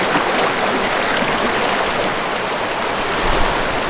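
Steady broadband rush of a glacial runoff stream flowing close by, loud and continuous with no voices; the feet stepping into the water are not distinguishable within the constant flow.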